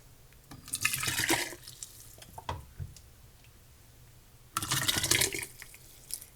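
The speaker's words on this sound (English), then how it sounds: "we're going to fill our jars" Hot turkey stew is ladled into canning jars in two wet, splashing pours a few seconds apart, with softer clinks and drips between them, close and moderately quiet.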